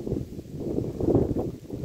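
Strong wind outdoors in Norway after grass cutting, buffeting the microphone with a steady low rumble that swells and eases in gusts for about two seconds.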